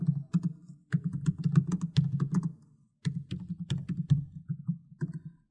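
Code is typed on a computer keyboard in quick irregular bursts of crisp key clicks, close up, broken by short pauses.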